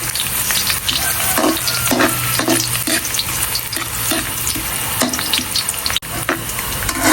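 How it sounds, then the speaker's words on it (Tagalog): Onion, garlic and ginger sautéing in a pan, with a loud continuous sizzle and repeated spatula scrapes and stirring knocks throughout, no voices. "Ayan, nalagay ko na ang sibuyas, bawang, luya. Golden brown lang natin"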